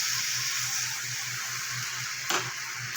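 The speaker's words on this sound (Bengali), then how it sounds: "এবার আমি একটু জল দিয়ে দেবো মশলার জলটা" Steady hissing sizzle from water hitting a hot pan of frying spice paste with turmeric, salt and cumin powder, cooked for a pointed gourd and potato dish. A low pulsing hum runs underneath, with one sharper splash near the end.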